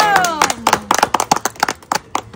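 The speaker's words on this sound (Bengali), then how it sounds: "আর একটা হাততালি দাও" A few people clapping their hands at home in short, uneven bursts of sharp claps, close and loud, with a voice speaking briefly at the start.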